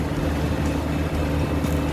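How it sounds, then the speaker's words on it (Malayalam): A steady engine drone runs throughout, low and throbbing, from a Mahindra 475 DI 42 hp tractor heard close up while driving, with no one speaking. "നമ്മൾ ട്രാക്ടർ കൊണ്ടാണ് പോകുന്നത്"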